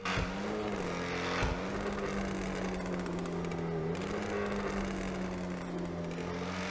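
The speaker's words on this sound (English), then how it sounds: "the Ocelot Jugular is also one of the best sounding cars in the entire game" Ocelot Jugular sports car engine in GTA Online, a loud steady droning note with slight pitch shifts as the revs rise and fall, with no voices over it.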